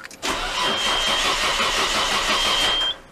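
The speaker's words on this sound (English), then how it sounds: "It started for a second, then died. Now it's just cranking." Nissan Skyline R32 engine cranking steadily without firing, the starter grinding on for nearly three seconds with the fuel pump unhooked, loud and close with no voices.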